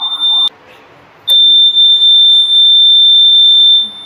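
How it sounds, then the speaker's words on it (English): A loud, piercing emergency alarm on an industrial robot beeps briefly, cuts out for a moment, then resumes as a long continuous high-pitched tone. "It is an emergency alarm, I think."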